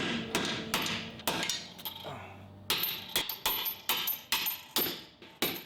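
A hammer strikes a 2002-06 Toyota Camry lower control arm in a run of about a dozen sharp metallic blows, close and fairly regular, with a brief pause in the middle.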